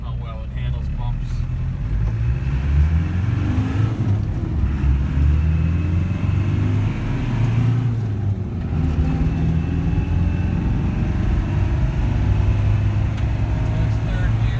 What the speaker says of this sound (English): On a dirt road here and test out the suspension, and you can see how well it handles bumps.